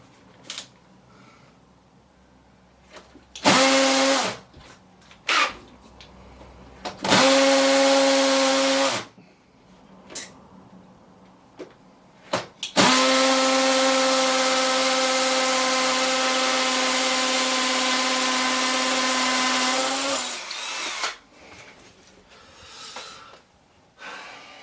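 Power drill set to hammer mode with a masonry bit bores into a wall in three loud, steady bursts, two short and one long sustained run of about seven seconds, with quiet pauses between.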